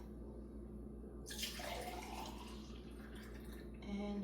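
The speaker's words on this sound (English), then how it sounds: "I will go ahead and pour in my glass here" Juice poured from a container into a drinking glass at home, a steady liquid stream trickling and splashing close by, alone without talk, with a brief sharper drip near the end.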